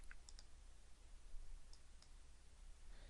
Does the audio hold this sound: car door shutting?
no